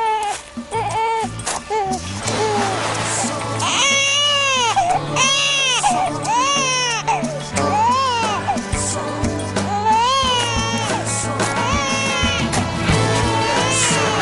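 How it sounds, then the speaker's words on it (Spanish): A newborn baby cries loudly and continuously in repeated wailing bursts, close by, during a National Police rescue, with faint voices and background noise underneath. "Mientras siga llorando se salva."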